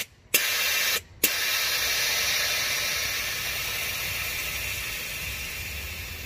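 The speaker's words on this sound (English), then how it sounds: "I gotta go turn the compressor on." An air compressor runs with a steady, loud hiss after two short starts, continuous broadband noise close by and no talk, in a garage setting for bagging a Toyota minitruck.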